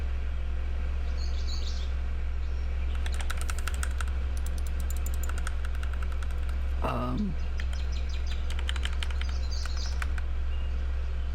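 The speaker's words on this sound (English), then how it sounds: "Oh, I have to use my arrow keys." Arrow keys tapped on a computer keyboard during a game, giving clusters of quick, light clicks in bursts near the start and middle over steady background hum, with a brief voice-like sound in between.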